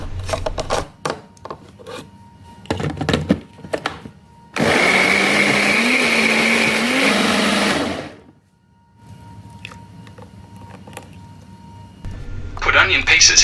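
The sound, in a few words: blender blending tomato pieces into juice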